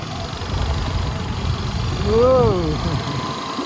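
An Aprilia SRGT200 scooter engine hums steadily while being ridden, a mid-low drone with a short rise in pitch, heard under a rider's voice.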